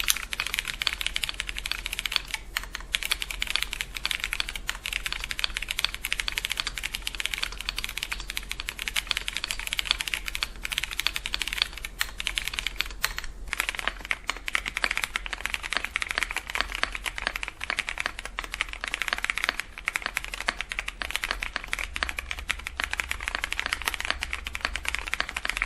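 Continuous rapid typing on a stock MonsGeek M1W mechanical keyboard, with dense, close clacking keystrokes at a steady fast pace and brief pauses, heard alone without speech.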